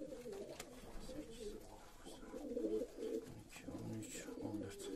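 Van pigeons, a breed with fourteen tail feathers, cooing softly inside a rooftop loft, with low repeated coos and a few chirps over quiet background rustle, fairly faint and unaccompanied by clear talk.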